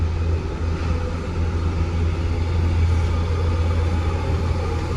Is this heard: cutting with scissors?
no